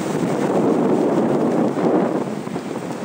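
Strong wind during Category 1 Hurricane Sandy on the coast near a pier, a loud steady roar of gusts buffeting the microphone with waves under it.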